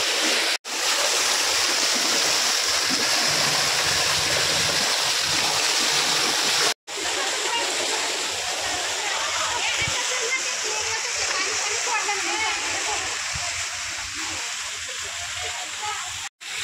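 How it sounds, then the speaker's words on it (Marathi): A waterfall beside a small cave in Pune roars with a loud, continuous rush of splashing water, briefly cut twice, with voices faintly beneath the torrent. "धबधबा आहे,"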